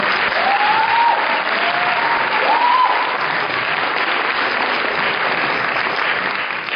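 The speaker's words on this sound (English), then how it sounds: "Give them a big round of applause." Sustained audience applause at a classical Indian dance debut performance, dense steady clapping throughout, with a few faint whistles or cheers rising briefly early on.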